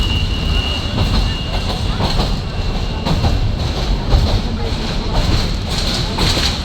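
Passenger train rolling along the railway through Dhaka, a steady loud rumble and rattle of the carriages with rhythmic wheel clatter, heard from on board with people talking over it.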